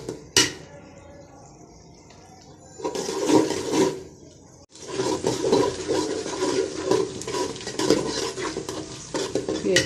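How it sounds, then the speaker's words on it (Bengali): Onions stir-fried in a pan for Arabian chicken kabsa sizzle loudly, with scraping stirring strokes, a brief quieter stretch early on, then continuous vigorous frying to the end. "পেঁয়াজটা ভালো করে ভাজা হয়ে গেছে।"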